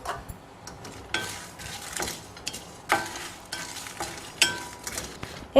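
Urad dal, chana dal and red chillies dry-roasted and stirred in a pan, with close, repeated scraping strokes and rattling lentils over a faint sizzle and irregular ticking clicks, no talk.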